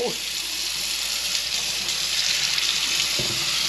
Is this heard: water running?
yes